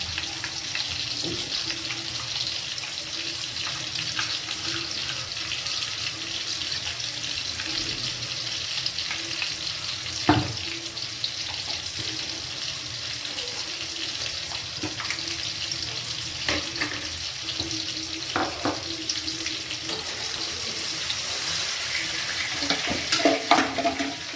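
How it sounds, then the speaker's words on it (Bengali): Potatoes fry in a pan with a steady, even sizzle that holds for the whole stretch, broken now and then by a soft clack or scrape. "আলু ভাজা হয়ে গেছে, দেখতেই পাচ্ছ তোমরা"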